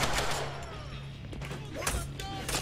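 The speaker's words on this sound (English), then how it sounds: "Slow motion gun." Slow-motion gunfire in the Deadpool video game: several muffled, drawn-out shots and thuds over a low steady hum, with bursts clustered toward the end.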